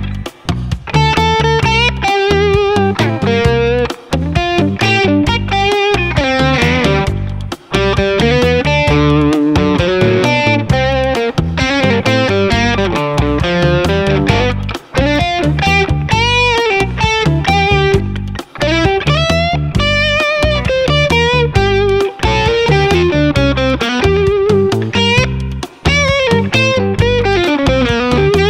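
Distorted electric guitar through a UA OX amp simulator plays a continuous, busy riff with dense crunchy tone and rhythmic chord stabs, loud and unaccompanied by voices.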